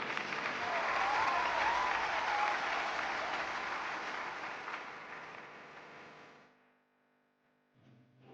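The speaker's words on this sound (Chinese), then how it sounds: "我们用掌声送你。" A studio audience at a televised relationship talk show claps in a full, steady burst that slowly fades out near the end, followed by brief faint sounds.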